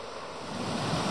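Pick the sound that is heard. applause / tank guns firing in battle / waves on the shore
waves on the shore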